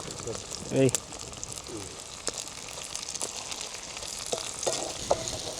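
Gongura leaves frying in a pan at an outdoor forest cookout, a soft continuous sizzle with a sharp clatter early on and light scraping, faint throughout.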